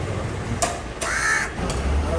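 A crow caws several times in short harsh calls at a home, fairly close and clear, with some talk and background noise around it.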